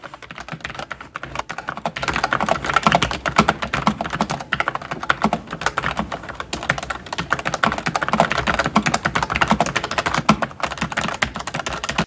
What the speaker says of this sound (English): a tactile quiet, which is what I have here